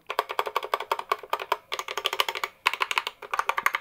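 Rapid clicky keystrokes on an optical-switch gaming keyboard, typed in quick bursts with a couple of brief pauses, close and crisp.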